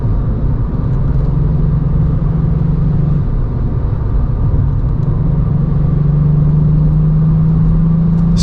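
Volkswagen up! GTI engine with its sound artificially boosted through a cabin speaker while driving: a steady, loud, droning engine hum that rises slightly in pitch, with no talking.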